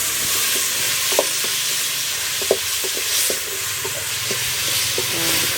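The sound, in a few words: food frying and being stirred in a pot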